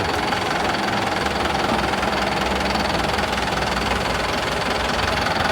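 A 2009 Kubota M9540 tractor fitted with a dozer blade runs its diesel engine at a steady idle, close and loud, with a constant knocking rumble and vibration and no talking.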